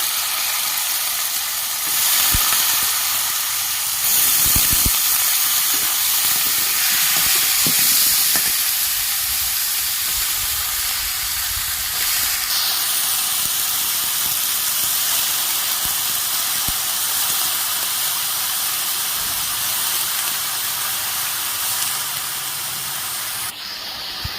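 Chopped bottle gourd goes into a hot pan and sizzles with a loud, steady hiss that lasts the whole time, broken by a few soft clatters of utensils. No one speaks.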